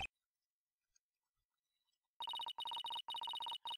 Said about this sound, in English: Your phone was playing Starlight at max volume!